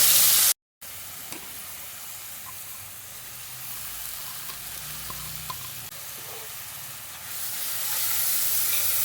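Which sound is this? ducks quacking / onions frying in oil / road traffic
onions frying in oil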